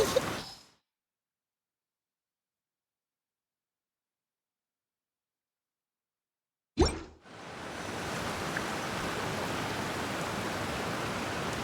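A waterfall in Genshin Impact rushes as a steady, full roar that sets in after a brief splash and then continues alone and unbroken.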